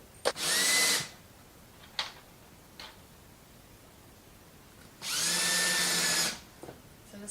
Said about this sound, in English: And I just put 2 screws in for this one.